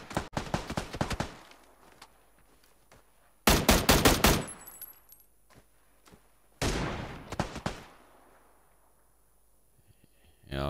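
Shotgun fire in a video game, in three separate clusters of loud, close blasts with rapid repeated shots, each followed by quiet gaps and fading echoes.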